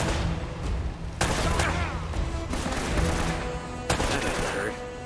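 Gunfire from Uncharted Remastered on PS4 Pro: dense, loud bursts of rapid shots and sharp cracks that keep restarting, with brief impacts mixed in over a continuous game soundscape.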